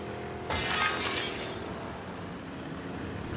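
Glass shatters loudly in The Last of Us II, a sharp burst of breaking and tinkling shards that rings out for about a second before fading into a low ambient background.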